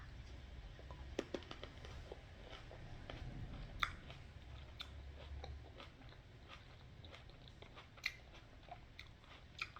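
Someone chews cherry tomatoes close up and quietly, with soft, wet bites and a few sharper crunchy pops scattered over a faint low background.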